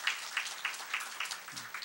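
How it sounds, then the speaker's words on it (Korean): A church congregation at a Wednesday worship service claps together in an even, rhythmic beat, a quick series of soft, distant claps. "우리 박수 한번 해줘야 돼요."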